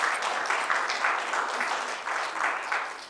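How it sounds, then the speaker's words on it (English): An event audience applauds the team with a sustained, even round of clapping that continues for about three seconds, moderately loud and without speech. "If you would like to help me give a round of applause to the team."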